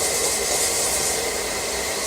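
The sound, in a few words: whisking dry cake ingredients with a whisk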